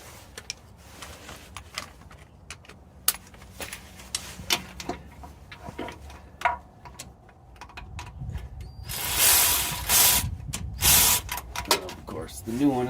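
A ratchet clicks in quick bursts while tightening the starter motor bolt on a 2002-2005 Chevy Silverado, with other mechanical clatter nearby and a louder spraying rush in the middle.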